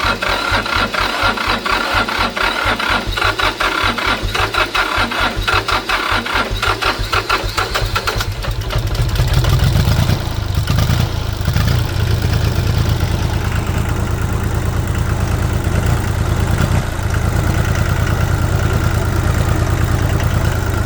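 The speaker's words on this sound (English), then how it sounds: "I'm gonna fire it up and see if I can't drive it out of the hole it's in." An International 284 tractor engine runs steadily, a loud close mechanical rumble with a rapid knocking beat that deepens and grows heavier partway through as it is revved to drive out of a hole.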